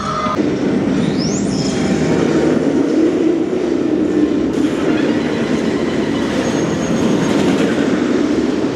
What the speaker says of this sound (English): they have been sending empty trains round on the Smiler